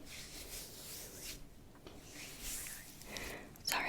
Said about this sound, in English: I'm just rubbing off the excess.